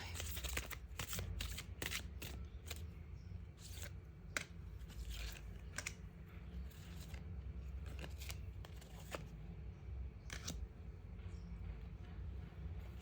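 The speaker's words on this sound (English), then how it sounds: "Shuffle one more time." Tarot cards are shuffled up close in quick riffling bursts and sharp snaps, pausing briefly between passes, with no talking.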